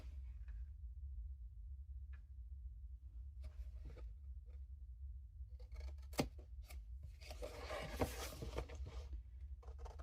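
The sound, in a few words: cutting the cardboard box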